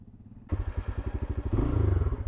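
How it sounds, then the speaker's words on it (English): A motorcycle engine fires up at half a second and settles into a loud, rhythmic chugging idle, close by, with a slight rise in revs near the end. "the motorcycle liked the brake. It fired right up that time."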